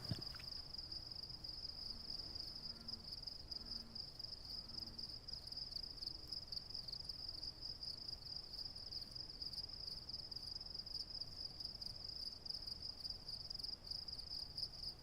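Crickets chirp at night on a hot summer evening, a steady high-pitched insect trill running continuously through the whole stretch with faint background rumble beneath.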